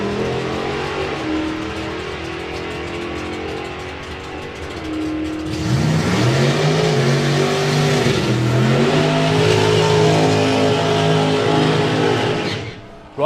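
A regular low 10-second drag racing car making a run at Dragstalgia: a loud engine roar holds steady, then surges hard with rising revving pitch as it launches and pulls away, staying loud until cutting off near the end.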